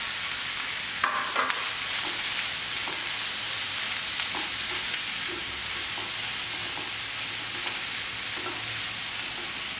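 Onion, almonds and tomato sauté in a pan for butter chicken, a steady soft sizzle with occasional stirring scrapes and taps, close and continuous with no talking.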